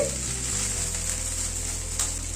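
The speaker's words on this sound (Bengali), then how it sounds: "প্রায় মিনিট 3-4 সময় ধরে মাছটাকে কষিয়ে নিলাম মশলার সাথে।" Fish is frying and being cooked down with spices in a pan for a fish chop. The sizzle is a steady, even hiss that carries on without a break, with a low hum underneath.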